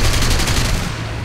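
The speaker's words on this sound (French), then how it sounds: "c'est un peu le bordel, ça tire de partout" Dense, overlapping gunfire rattles through a chaotic aerial dogfight melee in War Thunder, loud and continuous bursts with no gaps, no voices.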